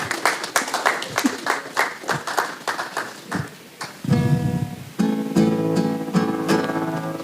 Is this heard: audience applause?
yes